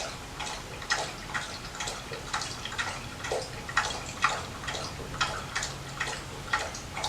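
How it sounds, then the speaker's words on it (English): Rapid, rhythmic wet lapping and ticking, like a dog drinking from a bowl, repeating steadily throughout at moderate distance. "You might hear my dog drinking in the background."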